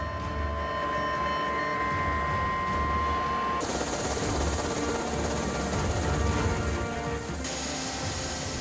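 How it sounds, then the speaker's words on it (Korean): A rescue helicopter carrying an injured climber from a mountain fall runs with a steady, loud rotor and turbine roar and a continuous whine that shifts in pitch partway through, with no talking. "헬기가 지상에 도착하면 기다리고 있던 구급차로 환자를 옮긴다."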